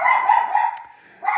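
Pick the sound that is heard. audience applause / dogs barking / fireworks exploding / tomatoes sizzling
dogs barking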